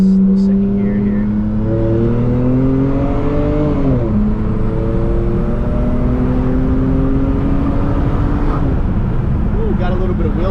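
BMW E90 328xi, a 2010 all-wheel-drive sedan, accelerates hard in second gear, its engine note rising steadily in pitch and then dropping at a shift, loud and close from inside the cabin with no talk over it.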